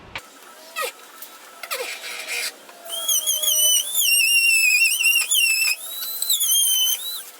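Dremel rotary tool cutting plastic for a rear vent install on a 2016 Subaru WRX, a few short grinding bursts followed by high shrill whining that rises and falls as the tool bites in, close and loud.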